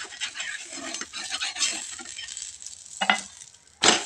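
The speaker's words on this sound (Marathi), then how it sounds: "जे आहे आपल्याला भाजून घ्यायचं आहे. तर पलटून घेते मी." Fenugreek thalipeeth flatbread roasting on a pan and being flipped, a soft uneven sizzle broken by short scraping and clinking bursts of the spatula against the pan, close up with no speech.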